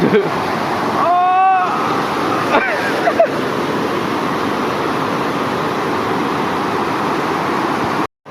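Water at the Urakkan Para waterfall in Pathanamthitta splashes and rushes in a steady broad roar as a man slides down the rock, with people shouting and talking over it.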